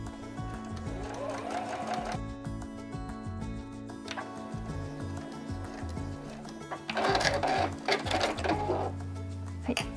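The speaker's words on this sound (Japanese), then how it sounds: "でもう一度縫って返し縫いをして終わりになります" A sewing machine stitches a caramel-shaped fabric pouch with a steady, close mechanical whir. It stops briefly, then sews again, and a louder burst of backstitching comes near the end.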